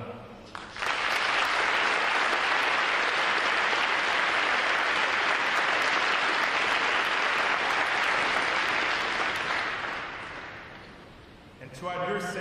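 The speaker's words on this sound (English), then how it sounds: "please give yourself a round of applause on the job well done" Loud, sustained applause from a large crowd at a U.S. Navy recruit graduation ceremony fills the space for about ten seconds, then tapers off as a voice begins speaking.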